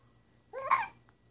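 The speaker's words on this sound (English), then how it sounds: "You got the hiccups?" A tiny baby gives a single short, squeaky hiccup with a voiced catch, close and clear in an otherwise quiet room.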